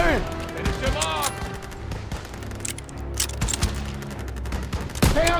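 Call of Duty video game gunfire: dense, loud bursts of rifle and machine-gun shots with booming impacts, mixed with shouted in-game soldier voices over a chaotic battle.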